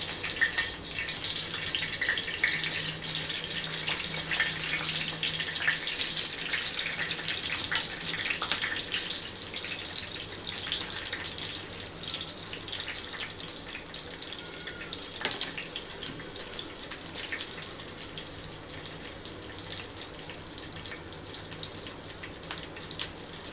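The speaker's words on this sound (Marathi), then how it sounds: "हे बघा, आपल्या मिरच्या फ्राय झाल्या आहेत" Green chillies stuffed with a spiced filling fry in a pan, giving a steady, dense crackling sizzle that continues evenly for the whole stretch, with no voices.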